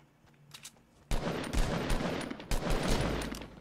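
Shotgun fire in a video game: after a quiet start, a dense run of loud gunshots erupts and keeps going in overlapping bursts, close and sharp, with no talk over it.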